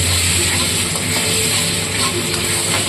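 Spice paste of onion, ginger, garlic and tomato with whole garam masala frying for prawn malai curry gives off a loud, dense, steady sizzle that runs unbroken throughout.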